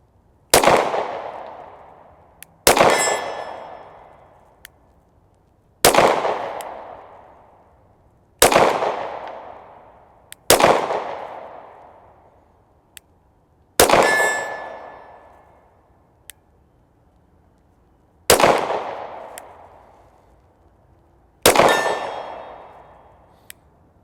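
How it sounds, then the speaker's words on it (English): Sig Sauer P365 XL 9mm pistol shots ring out at a steady pace, each sharp crack followed by a bright metallic clang from a steel target at 50 yards, about eight shots with decaying rings between them. "We're gonna shoot the 365 XL at that."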